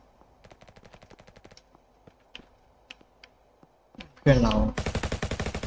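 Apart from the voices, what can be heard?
gunfire from the video game Roblox RF Legacy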